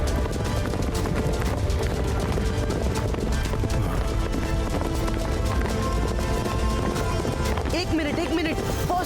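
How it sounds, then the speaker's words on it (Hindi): Cartoon horses gallop in a rapid clip-clop beat, running steadily beneath busy music, effects and voices in an action cartoon. "अरे ये घोड़े कहाँ से आ गए?"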